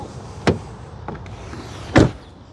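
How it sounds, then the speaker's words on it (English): A 2024 Hyundai Santa Fe XRT car door shuts with a solid thud, followed by a second heavier slam about a second and a half later, with quiet surroundings between. "I always listen to the sound of the closing door"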